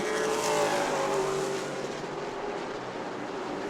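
Race cars roar around the New Smyrna oval during a late-race lap, a loud, continuous engine drone sweeping past with no break and no talk over it.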